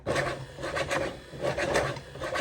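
A restored Mercedes monoblade single wiper arm mechanism sweeps back and forth, giving a soft, rhythmic rasping rub with metal-on-metal scraping in repeated strokes, fairly quiet and close.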